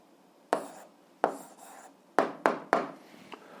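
Pen or chalk writing out an algebra answer in bursts of firm, scratchy strokes, several separate sharp taps and scrapes spaced apart, close and fairly clear with no talk.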